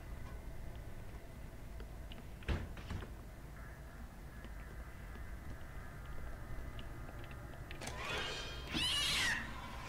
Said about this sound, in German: Wieder die Katze zum dritten Mal?